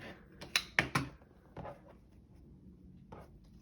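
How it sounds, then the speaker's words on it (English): A 60mm rotary cutter rolls through quilt batting and backing fabric in a few quick, soft crunching strokes close by, with a quiet pause between. "we'll use our 60mm rotary cutter and trim away the"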